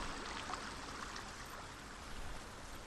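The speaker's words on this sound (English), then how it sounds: "The waterfall." A waterfall in the video game Hellblade: Senua's Sacrifice rushes as a steady, soft wash of water noise, continuous and even, fairly quiet and heard alone.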